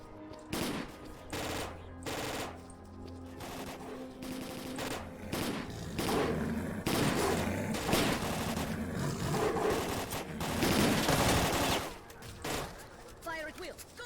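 Sustained automatic gunfire and bursts of shooting in the video game S.T.A.L.K.E.R.: Call of Pripyat, loud and dense through most of the stretch, with shouted voices and game sounds mixed in.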